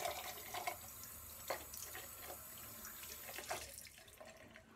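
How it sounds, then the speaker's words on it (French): Hot water runs from a bathroom tap while a face is rinsed during an evening cleansing routine, a steady close flow broken by uneven splashes and drips, with no talking. "Je vais enlever à l'eau chaude,"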